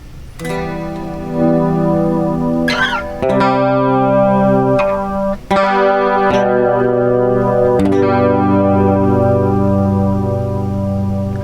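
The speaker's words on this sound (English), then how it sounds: "It had a little bit more warble in the pitch than any of the other modes." Sustained electric guitar chords through a TC Electronic 3rd Dimension pedal with a subtle, wavering pitch warble, a slight wobbly shake running through each ringing chord, played alone with no talk.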